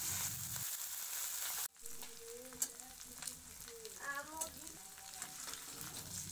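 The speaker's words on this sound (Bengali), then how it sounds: "নুন হলুদ মাখানো মাছ দিয়ে সুন্দর করে" Fish rubbed with salt and turmeric frying in hot oil in a kadai, giving a steady close sizzle with a brief silent gap and a few stirring sounds.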